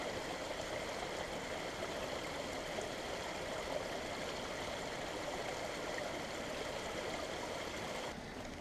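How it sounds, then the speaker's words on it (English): A rain-swollen creek rushes steadily along a walking trail, running higher than usual, its broadband wash holding constant and close throughout with no voices. "so you get very nice sound of the creek right here."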